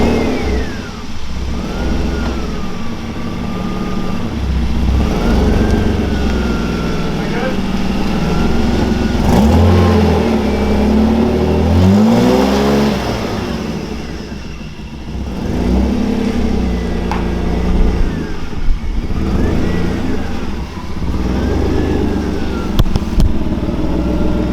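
BMW E36 drift car, no front bumper, revving and accelerating on its first drive, the engine rising and falling through several pulls up close, with people talking over it.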